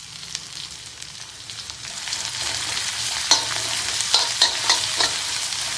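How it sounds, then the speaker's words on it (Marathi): Onions sizzle and crackle in hot oil with a garlic tempering while a spoon stirs, with several scraping clatters toward the end. "लसूणची फोडणी करून घेऊया कांदा ऍड करून घ्या"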